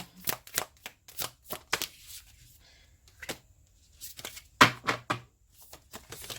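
Deck of tarot-style cards shuffled for a card reading, a close run of quick papery riffles and slaps in bursts with short pauses between, alone without talk.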